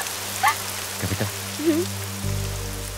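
Rain patters in a soft, steady hiss beneath gentle musical tones, with no voices.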